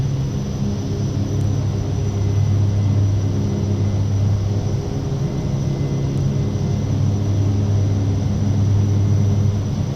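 Steady, loud engine drone of a Short 360 twin turboprop in a flight simulator, a continuous low hum with a constant pitch and no voices over it.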